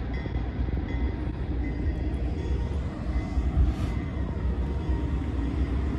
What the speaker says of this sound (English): a train coming